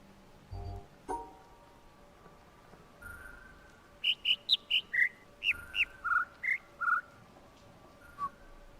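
A run of about ten short, high chirps from the birds in the game The Witness, evenly spaced and clear over a quiet background hum, with a few soft tones before them.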